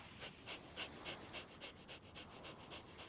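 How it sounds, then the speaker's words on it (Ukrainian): Kapalabhati fire breathing with short forceful exhalations through the nose, about a dozen rhythmic snorting puffs at a quick even pace, close but fairly soft, no talk. "Дихаємо активно, пупок підтягуємо на видосі."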